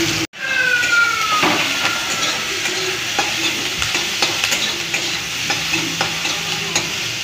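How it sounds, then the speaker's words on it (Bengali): Two large sliced onions fry in hot oil in a wok, giving a steady, loud sizzle with occasional stirring scrapes and clicks throughout. "এইটা ভালোভাবে লাল লাল করে ভেজে তুলে নেব।"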